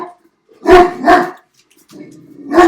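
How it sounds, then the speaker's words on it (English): Dogs barking nearby: two loud, quick barks, a pause with a low growl-like rumble, then another sharp bark, all close and prominent. "now you get to hear the dogs"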